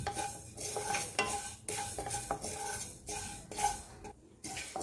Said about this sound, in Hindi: अब मैं इसमें 2 टेबलस्पून मेथी दाना डालूंगी और इसे अच्छे से रोस्ट कर लूँगी।